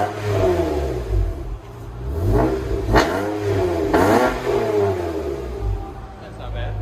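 Acura TL Type S with a 3.5L V6 and aftermarket dual-tip exhaust revving repeatedly, rising and falling engine swells up close, with people talking faintly in the background.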